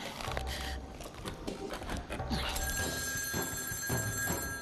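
A telephone rings in a Romanian sitcom scene, steady bell-like ringing with sustained tones over background room noise and some speech and movement.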